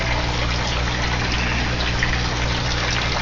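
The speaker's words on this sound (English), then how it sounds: "Half of it gets pumped back up here, back into the fish tank" Aquaponics water is pumped back up into a fish tank inside a greenhouse. It makes a steady, continuous rush and trickle with a pump-like hum underneath, fairly loud and unbroken throughout, with no talking.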